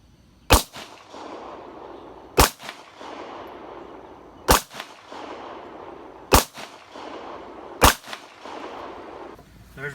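A 9mm handgun firing FMJ rounds lets off five sharp, loud shots spaced roughly two seconds apart, each followed by a short fading echo in open air.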